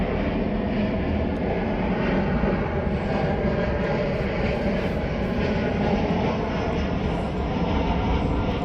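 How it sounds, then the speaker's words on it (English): Steady, loud airplane engine drone passes overhead, a broad continuous roar holding level for several seconds with no talk over it. "Shut up, plane."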